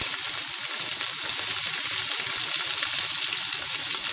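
Soaked urad dal fries in hot oil, giving a loud, dense, continuous crackling sizzle that holds steady throughout with no talking.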